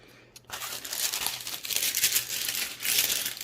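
Parchment paper is crinkled and handled up close while laid over a can koozie for heat pressing, a dense crackling rustle that starts after a quiet half second and continues in loud irregular bursts.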